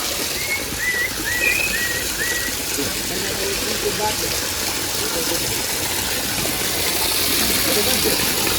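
A tap running to water thirsty sheep, with a steady gush of flowing water throughout, close and fairly loud, while a few short bird whistles sound early and faint voices murmur underneath.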